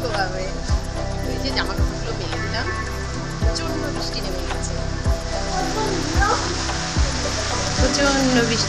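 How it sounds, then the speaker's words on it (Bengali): A heavy monsoon downpour roars as a steady, dense hiss outside an open door, with a voice talking over the constant rain. "খাওয়া হতে না হতেই প্রচন্ড বৃষ্টি নেমে গেছে মুষলধারে"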